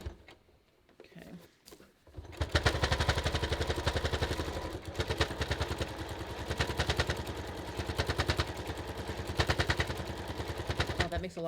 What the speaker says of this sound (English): Oh, that makes a lot of noise. I think it's all the accessories in the accessory tray.